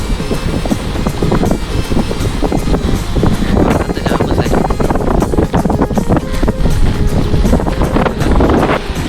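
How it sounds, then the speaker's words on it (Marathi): Rough sea waves and strong wind buffet a small fishing boat out on open water during net fishing, a loud, continuous roar with gusty microphone rumble throughout and no clear voices. "लाटा बघा किती आहेत"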